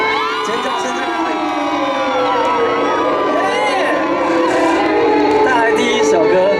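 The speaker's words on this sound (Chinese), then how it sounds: "全场，你们的声音在哪里？ 尖叫声在哪里？" A large crowd at an outdoor Hakka cultural festival concert in Pingzhen, Taoyuan screams and cheers continuously, with high shrieks and whoops rising in intensity, loud and close.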